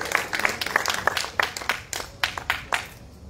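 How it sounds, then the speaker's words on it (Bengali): Scattered audience applause at an evening stage program in Kolkata honoring Aparajita, with irregular claps of moderate loudness rising and thinning over a few seconds, no voices. "এই সাহসের জন্য না বেশ জোরে একটা হাততালি দরকার"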